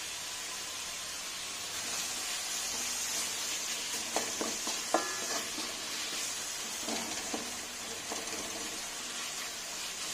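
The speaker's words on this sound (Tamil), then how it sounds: "தக்காளி நல்லா வதங்கிடுச்சு." Chopped tomatoes with ginger and garlic sauté in a pan, giving a steady soft hiss of sizzling, broken by a few brief stirring clatters partway through.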